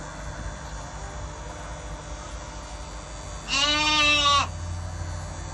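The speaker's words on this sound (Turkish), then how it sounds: "Kuzularımız burada." A single clear bleat from a sheep among lambs rises out of a quiet outdoor background, lasting about a second before the steady hum returns.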